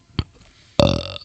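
A man burps during a podcast recording: a short throaty sound, then a louder, longer croaking burp close to the microphone, with no talking.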